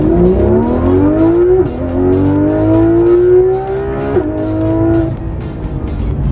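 A Porsche 911 GT3 RS of the 991 generation, its roughly 500-horsepower flat-six and twin exhaust outlets rising in pitch through successive gear changes, loud and close, with two clear shifts where the tone drops before climbing again.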